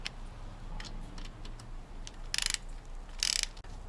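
A Vessel non-slip screwdriver turns a screw on a Toyota Century rear window regulator, giving soft clicks and two short bursts of close ratcheting, with no voices.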